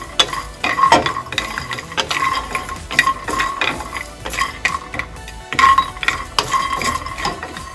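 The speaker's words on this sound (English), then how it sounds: "Let's roast our cashews and the cinnamon, cardamom, and cloves." Cashews, cinnamon, cardamom and cloves rattle and scrape as they are stirred and dry-roasted in a pan for a mutton curry, a steady run of clinks and soft sizzling.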